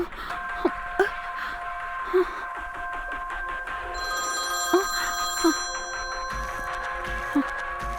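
A phone ringing with an incoming call gives a repeating electronic ring tone at close range, overlaid with several short vocal sounds.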